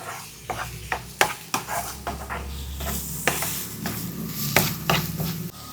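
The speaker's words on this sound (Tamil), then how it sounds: "நல்லா ஒரு கிளறி விடுவோம்" Onions with salt are stirred and sautéed in a pan for a masala omelette: a soft sizzle runs underneath while a spoon knocks and scrapes the pan in a string of sharp, irregular strokes.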